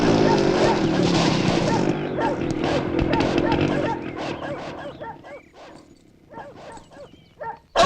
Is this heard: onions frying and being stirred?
no